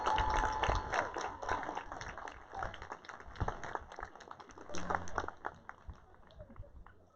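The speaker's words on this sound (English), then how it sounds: "Let's give them a big round of applause." Commencement audience applauding faculty and staff, a dense wash of many hands clapping at steady volume for several seconds before tapering off toward the end.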